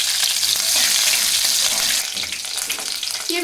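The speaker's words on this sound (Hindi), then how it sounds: "अब मैं इसमें डाल दूंगी रई, जीरा और हरी मिर्च।" Mustard seeds, cumin and green chilli hit hot oil with a loud crackling sizzle that spits and pops steadily, easing slightly after a couple of seconds.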